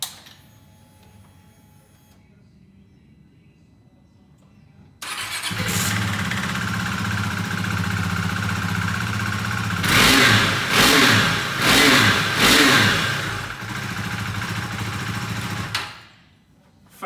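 A Husqvarna Vitpilen 401 with a 390cc single-cylinder engine starts after a quiet pause and settles into a steady idle. A series of sharp revs follows, and the engine then cuts off near the end.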